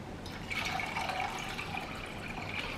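Six cups of water pour steadily into a pot on a stovetop, a continuous mid-level splashing stream with a bright running tone that holds for about three seconds without a break.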